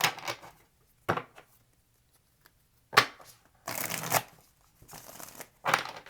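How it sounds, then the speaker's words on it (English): Tarot cards being shuffled for a reading, heard as several short, crisp riffling bursts separated by quiet pauses, close and fairly soft, with no talking. "Last shuffle for Aquarius"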